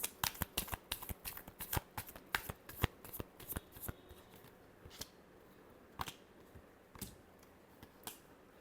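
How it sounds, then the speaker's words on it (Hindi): Tarot cards are shuffled by hand in a quiet room, first in rapid riffling flutters, then in slower, separate snaps, near and soft. "Last shuffle."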